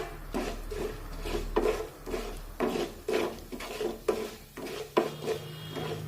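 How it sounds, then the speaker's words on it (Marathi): A spoon stirs urad dal and cumin in a tempering of hot oil in a pan over a low flame, giving repeated scraping, clinking strokes in a steady rhythm, close and moderately loud with no talk. "आणि चमच्याने चांगलं हलवून घेऊया"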